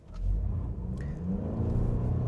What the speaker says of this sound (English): Now let's try one more 0 to 60 run here.